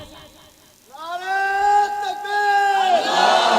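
A crowd at a Muslim religious gathering shouts the takbir slogan in unison, a swelling chorus of raised voices rising together, loud and sustained, with a further surge of shouting near the end.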